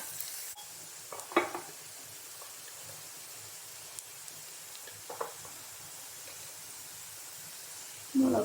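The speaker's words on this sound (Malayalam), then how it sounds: "നമ്മളെ ഉള്ളി വഴണ്ടി വരുന്നുണ്ട്" Salted onions sauté in a pan with a faint, steady sizzle, marked by a few soft scraping stirs and a louder clatter at the end.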